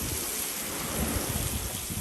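Basa fish fillets sizzle and brown in a frying pan for spicy fish tacos, giving a steady, dense hiss and crackle that carries on unbroken, close and fairly loud, with no voices.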